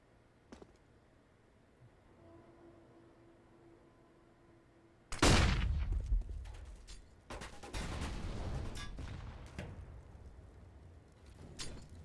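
Grenades exploding during a Counter-Strike match, a sudden loud blast with a long rumbling tail, followed by further bursts of explosions and gunfire-like noise after a quieter stretch.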